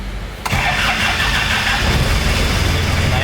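A Daihatsu Taft GT 4x4 engine cranks briefly and catches after an oil change, then settles into a loud, steady rumbling idle close by with no speech.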